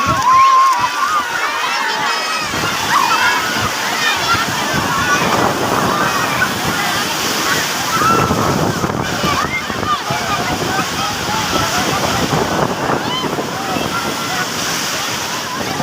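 Sea water sloshing and splashing at Manora Beach in Karachi, a steady broadband wash of surf filling the scene, with voices of beachgoers mixed in throughout.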